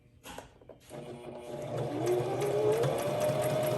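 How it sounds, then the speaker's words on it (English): A sewing machine starts up and runs steadily sewing a straight stitch, its motor whirring and rising slightly in pitch as it stitches continuously. "So now I'm going to sew a straight stitch. So just it's going to be a little bit noisy"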